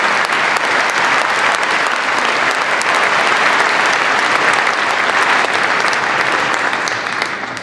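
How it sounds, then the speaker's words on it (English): A large crowd at a Navy Pier celebration in Chicago claps loudly and continuously, thick unbroken applause that holds steady for several seconds and only begins to thin out at the very end. "let's give them a big round of applause"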